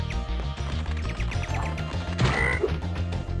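A frog in the Spyro 2 video game lets out a croak, a brief low guttural call over a busy layer of game music and effects.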